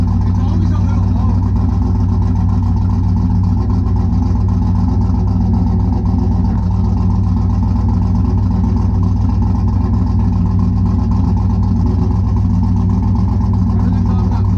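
A drag race car engine idles loud and steady at a high-altitude drag strip, a constant deep rumble close by, with people talking over it.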